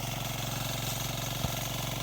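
A small power tiller engine runs steadily at a constant idle, a close, even, rhythmic putter that continues without pause and cuts off at the very end, with no voices.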